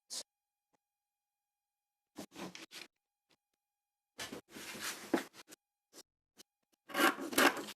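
Scissors cutting out a paper center-front pattern piece for a six-panel mermaid skirt, heard as several short quiet bursts of snipping and paper rustle separated by silences, with a denser run of cuts toward the end and no talking.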